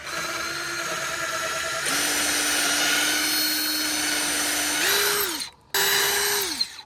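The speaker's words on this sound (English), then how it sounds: "Now it's time to drill the holes." A power drill whirs in long continuous runs while drilling holes freehand in railing posts, pitch rising and falling as it bites and spins down, with a short pause between bursts.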